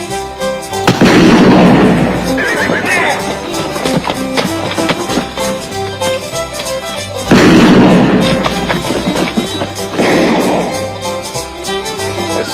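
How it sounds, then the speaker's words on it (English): Gunshots ring out in a western cowboy movie: two loud, booming shots several seconds apart, each ringing out over a busy orchestral score. "There's somebody shooting."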